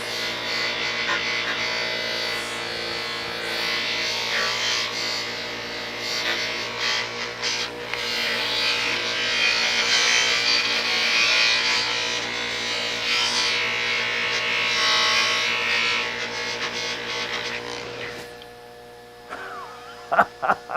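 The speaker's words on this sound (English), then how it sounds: "this is how fast this goes if you can get yourself a polishing wheel like this" A polishing wheel buffs an aluminum motorcycle wheel, giving a loud, steady whirring and grinding drone that runs continuously, then cuts off near the end, leaving a few sharp clicks and knocks.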